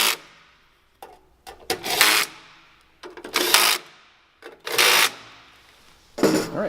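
Screws are tightened down while fitting a heat element and motor on an A2.5/A3e unit, heard as four bursts of bright rasping, ratcheting driver noise separated by short pauses, close and moderately loud with no talk.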